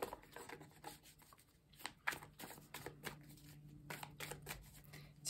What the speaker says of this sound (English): I will be cutting the deck.